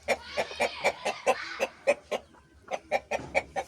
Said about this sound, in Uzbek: Mana tovuqlar tuxumda.